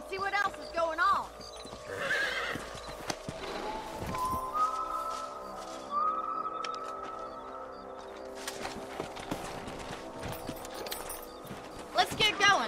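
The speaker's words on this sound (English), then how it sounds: "Let's get back on the horses and see what else is going on." In the Red Dead Redemption video game, horses whinny and hooves clip-clop over ground as riders set off. Music and game effects play throughout, and a voice speaks near the end.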